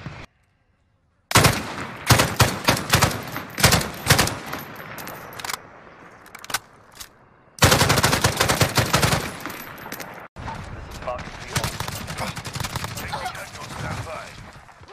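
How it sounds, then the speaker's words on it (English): A personal sentry gun in Modern Warfare fires long, loud automatic bursts, with rapid crackling volleys stopping and starting across the span and players talking at times. "Personal sentry gun."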